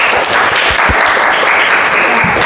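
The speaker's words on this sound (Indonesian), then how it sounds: "Baik, tepuk tangan sekali lagi." A classroom of students clapping together in sustained, dense applause, loud and steady throughout with no talk over it.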